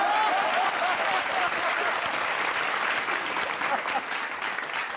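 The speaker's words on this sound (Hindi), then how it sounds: "इस बात पे सभी ऑफिसर ने ताली बजाई है" Officers in an audience applaud at an Independence Day poetry show, a dense, steady burst of clapping that holds at full strength for about five seconds with a faint murmur of voices.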